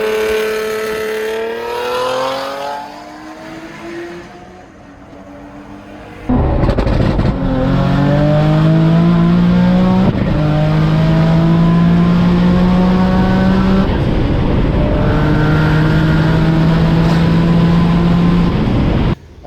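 A 1000HP single-turbo G35 coupe on a dyno, engine revving as it rises, then loud sustained full-throttle pulls with climbing engine tones and repeated gear-change breaks, heavy and close.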